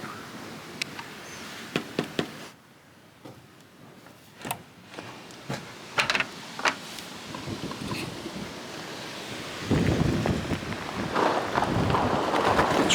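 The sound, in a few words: stormy wind outside cottage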